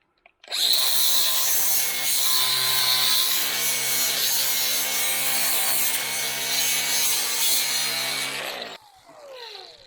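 A flap wheel spins up and grinds steadily along the rough edges of a wooden raised garden bed, a loud, continuous abrasive whir lasting several seconds before cutting off and winding down.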